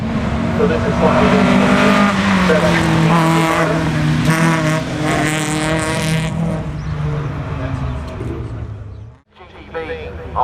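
Datsun 1600 race car with a 1.6-litre engine at the Leyburn Sprints, revving hard and climbing through gears up close with tyre squeal, then fading away, while a commentator talks over it.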